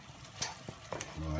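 Liquid cream simmering gently in a pan for a Cascade des îles recipe, giving a soft, faint bubbling and light sizzle with a few clinks and stirs, no talk.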